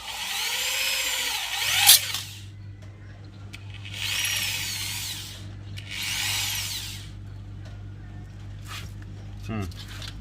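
A power drill whines in three separate bursts into hard steel on a rat trap cage, with a person talking between and over the drilling.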